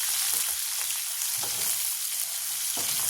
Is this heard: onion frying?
yes